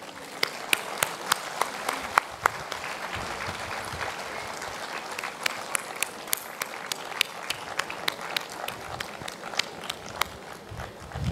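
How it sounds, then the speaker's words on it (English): Audience at a school day event applauds students called onto the stage, dense clapping with sharp individual claps standing out, continuing for several seconds. "Can we please have them all on the stage and give them a big round of applause"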